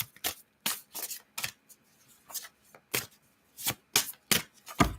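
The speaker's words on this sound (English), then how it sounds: "I should just stop shuffling them, but usually I like to stop when the cards stop, and the cards are not stopping." A deck of tarot cards being shuffled by hand, with crisp riffling bursts coming in irregular clusters and short pauses between them, close and moderately loud with no talking.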